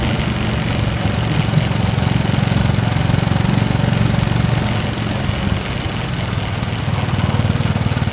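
Motorcycle engine droning steadily while riding on a crisp night, a continuous loud rumble with wind noise and no break throughout.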